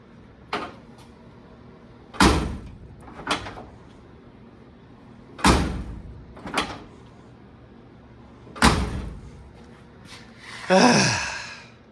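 A classic car door is shut again and again, about seven solid thuds and latch clicks spaced a second or two apart, close by.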